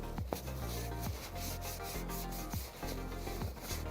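A fine abrasive pad rubs back and forth across a 3D-printed Pokémon model, making repeated close, gritty scrubbing strokes in a steady rhythm with no talking.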